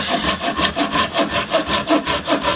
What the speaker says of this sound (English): when you saw with these small saws, you're going to feel it